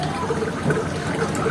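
Water rushes steadily through a newly installed household water filter and its hose, a continuous close gurgling flow with no pauses.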